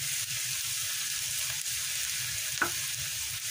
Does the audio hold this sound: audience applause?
no